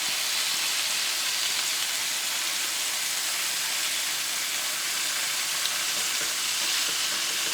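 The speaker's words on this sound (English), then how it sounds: "I'm actually going to press this down a little bit just to make sure our top side gets the nice browning that we want." Veal saltimbocca wrapped in cured prosciutto fries in a pan while being pressed down, a steady, loud, close sizzle of hot fat that holds evenly from start to finish with no talking.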